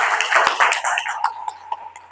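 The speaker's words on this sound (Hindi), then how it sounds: "मैं एक बार जोरदार तालियों से स्वागत चाहूंगा आप लोगों से" Audience clapping after a call for a warm welcome at a Hindi-language business event, a short burst of scattered, fairly close claps that thins out over about two seconds.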